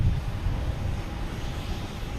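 A Porter airliner takes off at Boston Logan Airport, heard as a steady low engine roar and broadband rumble from a distance, with slight wind buffeting and no speech.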